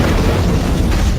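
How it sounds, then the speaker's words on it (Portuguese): An explosion blast near Liverpool Street station in London, heard as a loud, sustained low rumbling roar with no pause and no voices. "relatos de uma explosão perto da estação de Liverpool Street"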